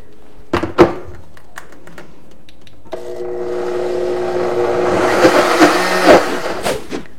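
An electric mixer blending cake batter. A few knocks and clatters come first, then the motor starts near the three-second mark and runs as a steady whirring hum, with more clunks and scraping over it.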